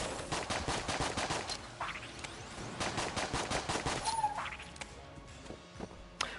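Rapid pistol fire from the Slinger in Enter the Gungeon, a dense stream of sharp game gunshots with a few chirpy effect sounds mixed in, steady and fairly loud throughout.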